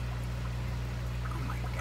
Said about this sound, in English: it gives me a little bit more water flow on that end of the tank